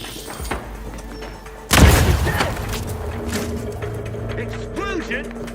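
A grenade detonates in the Outer Worlds 2 video game, a sudden loud boom about a third of the way in that leaves a lingering rumble under continuing game sounds and character voices.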